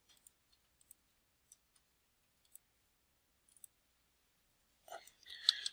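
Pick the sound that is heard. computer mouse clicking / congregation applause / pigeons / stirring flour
computer mouse clicking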